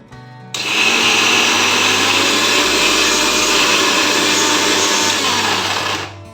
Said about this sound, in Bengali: মিক্সিং জারটা বন্ধ করে দিলাম